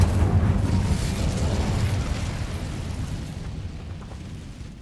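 Incendio fire spell cast in Hogwarts Legacy, a whooshing fiery burst with a deep rumble that starts loud and slowly fades and thins out over about five seconds, with no talk.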